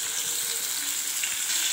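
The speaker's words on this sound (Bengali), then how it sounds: "এবার ভাজা হচ্ছে," A constant close sizzle and crackle comes from cauliflower and potato pieces frying with ginger in a pan, holding at an even level throughout with no voices.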